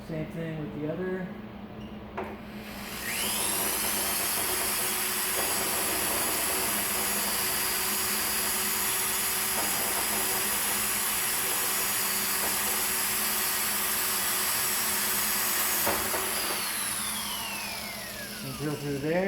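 A power drill spins up with a rising whine, runs steadily at high speed for about fifteen seconds drilling pilot holes for cooling flaps, then winds down.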